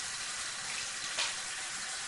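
Tap water runs steadily into a sink for hand washing, a continuous close hiss that swells briefly partway through, with no voices.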